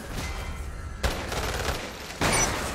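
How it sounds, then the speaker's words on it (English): Shotgun blasts fired at point blank in the video game Umbrella Corps, two sharp loud bursts a second apart over dense, continuous battle noise. "Shotgun point blank."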